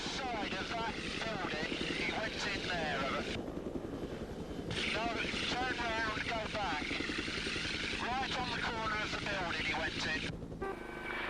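A police helicopter's rotor chop and engine drone run steadily in the background during a car chase while someone talks over it almost throughout.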